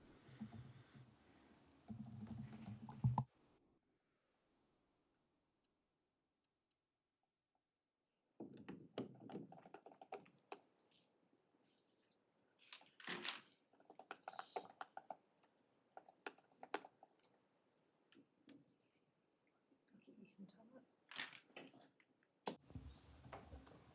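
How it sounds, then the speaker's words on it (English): A computer keyboard is typed on at a council assessment panel meeting: soft, close key clicks in irregular runs, broken by a stretch of near silence, with no voices. "While Aaron is typing that up"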